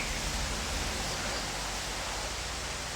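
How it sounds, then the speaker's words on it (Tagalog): Steady, roaring broadband wind noise buffets continuously with no pauses, loud and close, with no voices present. "Malakas yung hangin kaya nadadala yung mga busis ba?"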